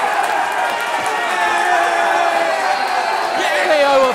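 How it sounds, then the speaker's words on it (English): A football crowd at a Ware FC versus Bedford Town non-league match cheers loudly after a goal. The roar is sustained and swelling, with a commentator talking over it. "listen to that crowd"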